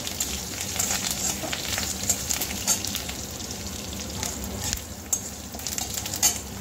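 Curry leaves and mustard seeds sizzle steadily in hot oil for a semolina snack, a continuous close crackling fry with brief louder pops, no voices.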